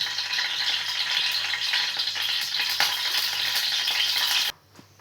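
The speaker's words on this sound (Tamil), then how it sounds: "அடுத்து கடுகு போட்டுக்கிடலாம்." Mustard seeds splutter in hot sesame oil while tempering a raw banana thuvaiyal, a close, steady crackling sizzle that stops abruptly near the end.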